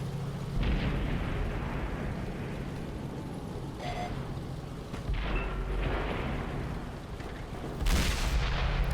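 Tank cannon fire in World of Tanks on console, with a Kanonenjagdpanzer in play: deep booming shots stand out against a constant rumble of engine and battle noise, and one sharp loud blast comes near the end.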